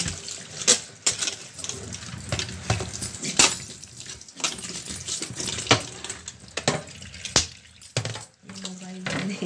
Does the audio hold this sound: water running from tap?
yes